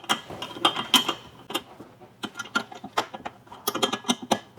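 A tool tightens ditch light mounts on a 2024 Ford Ranger, with close, irregular bursts of ratcheting clicks.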